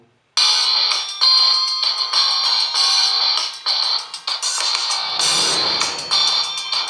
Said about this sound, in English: I'll play the same track on both these phones one by one. So I'm first playing on the Redmi 2.